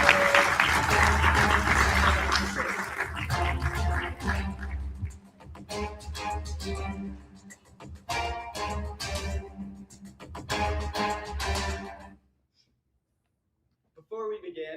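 Audience applause welcoming a student team to the stage at an entrepreneur camp pitch event. A burst of clapping is followed by a dense rhythmic stretch and then fades to near silence, with a voice partly over it.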